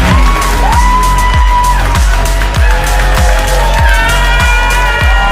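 A large crowd at a Robinhood summit cheers and whoops loudly, a dense continuous roar of voices and yells with rhythmic thumping music underneath.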